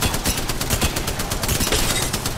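Rapid gunfire rattles in the Apex Legends battle royale game, a dense, loud burst of repeated shots with several weapons firing over one another continuously.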